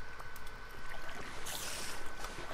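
Faint, steady flowing water in a video game trickles and splashes softly in the background.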